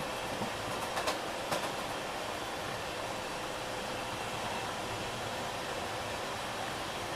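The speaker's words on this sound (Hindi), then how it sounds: "अरुणाई एक्सप्रेस को ओवरटेक किया अभी अभी हम लोगों ने वेस्ट बंगाल संपर्क क्रांति में" West Bengal Sampark Kranti express running on Indian Railways, heard as a steady, loud rolling rumble of wheels and carriages with a couple of brief clanks, continuous throughout.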